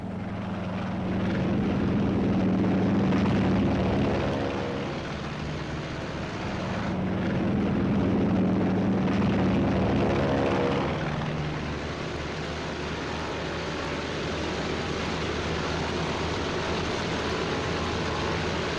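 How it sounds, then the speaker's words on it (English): Propeller planes of a carrier air group take off from a flight deck into the wind in an old WWII war film about the USS Yorktown, a loud sustained engine roar rising and falling as aircraft pass. "Our entire air group thunders out behind the group commander."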